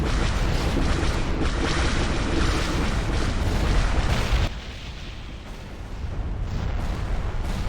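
Torpedoes slam into a shield generator in a Star Wars space-combat video game, a dense run of heavy explosive booms and rumbling blasts that fills the mix, easing slightly midway before building again.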